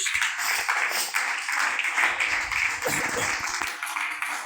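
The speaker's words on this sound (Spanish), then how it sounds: "Denle ese aplauso al Señor Jesús" Church congregation clapping in praise to Jesus during a teaching service, a steady dense wash of hands sustained throughout, with voices mixed in underneath.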